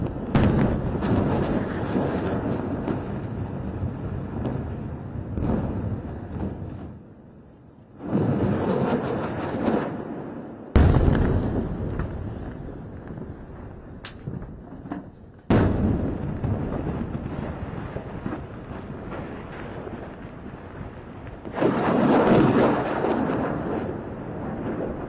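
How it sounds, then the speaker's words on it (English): Heavy booming blasts from a relentless barrage of Israeli military airstrikes, a series of loud rumbling explosions with sharp onsets around 11 and 15 seconds, continuous and dense with no voices. "These ground troops are getting aerial support with the IDF's relentless barrage of airstrikes."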